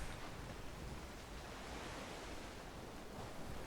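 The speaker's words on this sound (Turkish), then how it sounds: "inşallah bu gemi dayanır ya bu dalgalara" Ocean waves wash against a ship at sea in the video game Valheim, a constant roaring surf hiss with gusts of wind, steady and fairly quiet, with no talking.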